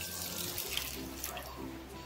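Tap water running steadily into a pot as one litre is poured in for cooking, a continuous close splashing stream.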